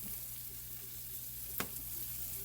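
Salmon fillets pan-frying on a stovetop produce a soft, constant sizzle with a single sharp clink partway through, close and fairly quiet, with no talking.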